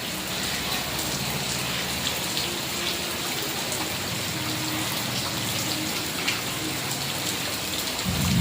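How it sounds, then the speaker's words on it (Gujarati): Heavy rain pours down steadily during a thunderstorm, a dense continuous hiss of drops drumming on surfaces nearby, loud and unbroken for the whole stretch with no voices. "વરસાદ પડે છે અત્યારે જોરદાર"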